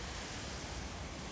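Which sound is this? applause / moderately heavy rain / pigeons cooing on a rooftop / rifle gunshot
moderately heavy rain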